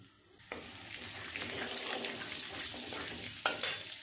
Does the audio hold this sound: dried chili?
yes